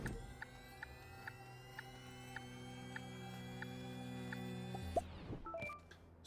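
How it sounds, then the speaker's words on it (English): Small generator being printed in the Astroneer video game, a steady mechanical electronic hum with regular soft ticks, ending in a descending whir and quick clicks as it finishes, fairly quiet. "Small generator."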